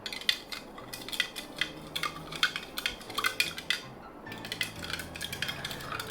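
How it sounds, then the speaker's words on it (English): Roselle tea with a tablespoon of sugar being gently stirred, a spoon clinking lightly and repeatedly against the cup in an irregular rhythm, close and fairly soft, with no talking. "you give it just a gentle stir"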